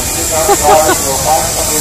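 Loud, broad steam hiss comes from traction engines at the Great Dorset Steam Fair, a continuous rushing wash with faint murmuring voices and tonal bits mixed in.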